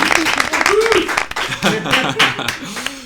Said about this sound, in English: Round of applause for Lucy.